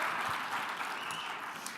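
Brief burst of keynote audience applause for a volunteer on stage, a steady, fairly soft wash of many hands clapping with no voices over it.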